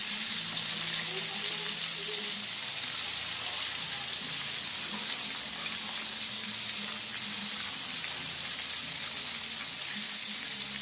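Pangasius catfish fries in oil in a pan, giving a soft, steady sizzle and hiss that runs evenly throughout at low volume, with no voices over it.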